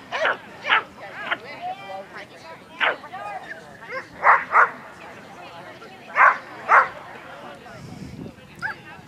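Several excited dogs bark and yip in sharp bursts at an outdoor agility event, near and loud, with quieter whimpers and yelps between them and faint background voices.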